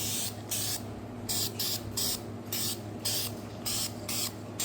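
An aerosol can of high-heat paint sprays diesel engine parts from a Hilux Surf in a run of about eight short, close hissing bursts separated by brief pauses, with a steady low hum beneath and no speech.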